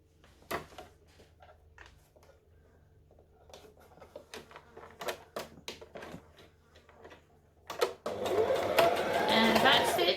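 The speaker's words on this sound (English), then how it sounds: "Now I'm still going to sew top to bottom so that this will automatically stitch down." A sewing machine stitches a Butterick B5655 top from top to bottom. Talk and scattered handling clicks come first, then the machine runs loud and steady, close by, through the last couple of seconds.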